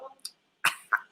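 Two short, sharp coughs come close to the microphone after a brief vocal sound, from a person in a kitchen during a cooking session.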